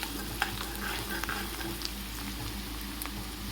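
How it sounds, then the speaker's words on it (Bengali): Onions frying in a pan, a continuous, even sizzle with faint bubbling and a few soft stirring clicks over a low steady hum, no one talking. "2 মিনিট মতো ভালো করে পেঁয়াজটাকে ভেজে নেব।"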